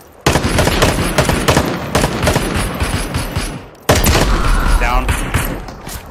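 Gunfire in the battle royale video game Super People, loud sustained automatic bursts that fill most of the clip, briefly dropping before another sharp burst, with a short spoken word from a player.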